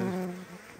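Steady droning buzz of honeybees at an open hive, close and fairly loud, with a low hum that fades slightly toward the end; no voices.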